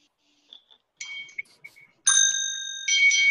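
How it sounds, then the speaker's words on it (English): Handheld bells rung by many participants at once during an online worship service, scattered faint dings at first, then a loud sustained chorus of overlapping bright tones. "this is the one point in the service where everybody becomes unmuted and we can hear everybody's bells"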